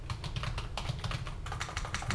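Quick irregular keystrokes on a computer keyboard, a close, fairly quiet patter of individual clicks in short bursts with no talking.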